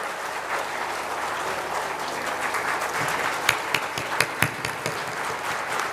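Audience applause fills a religious Bhagavat Katha discourse gathering in Haridwar, a steady wash of clapping throughout with a few sharper, louder claps standing out near the end.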